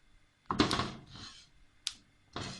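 Scattered crackling bursts from cumin seeds roasting in a hot pan, a few separate pops and rustles, quiet and close with gaps of near silence.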